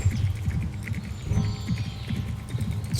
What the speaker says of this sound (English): the sound of galloping.